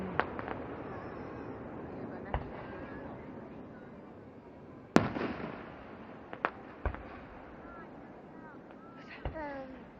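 Fireworks at Lime Rock race track, with scattered distant pops and crackles and one sharper bang midway, over steady wind and outdoor rumble while people talk and react.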